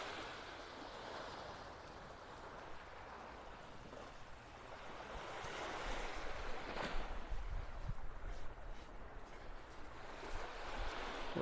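Surf washing onto Vanderbilt Beach in North Naples, Florida, a steady broadband wash of waves with soft wind noise, building slightly louder in the second half and continuing without any voices.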